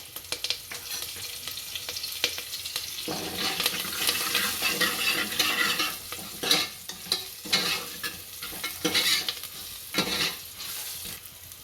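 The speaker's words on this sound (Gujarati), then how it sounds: "હવે આમાં 2 સૂકા મરચાં નાખશું અને લીમડો નાખશું" Asafoetida, two dried red chillies and curry leaves spluttering in hot oil for dal khichdi, a loud bright crackle that swells as each goes in, stirred with scraping strokes, no voices.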